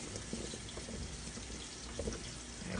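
Tap water gushes steadily into a sink while asparagus spears are rinsed, a constant close splashing rush with small irregular spatters and no talk.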